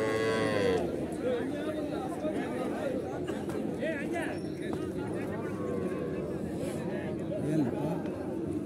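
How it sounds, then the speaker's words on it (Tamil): Cattle and young calves, a bull calf and heifer calves, lowing at a crowded cow market in Chintamani, Karnataka, with moos standing out over constant crowd chatter and speech nearby. "இது காளை கன்று, இது வந்து கிடாரி கன்றுங்க ஜோடி."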